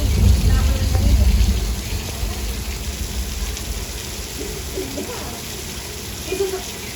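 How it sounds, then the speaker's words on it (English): Artificial rain on an outdoor studio tour set at night makes a steady broadband hiss that swells slightly early on and then settles into an even wash. "if you look to the left, it's raining"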